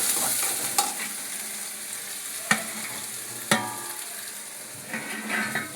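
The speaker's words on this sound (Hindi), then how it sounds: "इतना हमारी इधर प्याज भी भूनते रहेंगे" Onions frying in a pan for dhaba-style kadhi pakora, with a steady soft sizzle and a few sharp clinks of a spoon against the pan.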